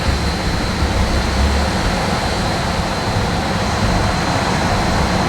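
A remapped Land Rover Defender 2.2 TD4 Puma diesel at full throttle in fifth gear on a dyno, a loud, steady, broadband roar that holds at the same level for the whole stretch.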